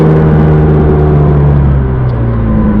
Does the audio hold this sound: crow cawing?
no